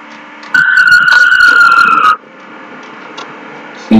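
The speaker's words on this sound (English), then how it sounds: "I'm at least glad to see that the Porsche sounds epic." A Porsche in the Vehicle Sim game gives a loud, steady high-pitched engine whine for a second and a half, then cuts off abruptly and leaves a lower background rumble.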